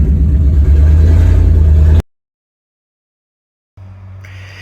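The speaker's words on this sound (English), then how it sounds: "And this is us driving out." A small car drives out after a storm, its engine rumbling loud and close for two seconds, then a cut to silence before a quieter engine hum resumes.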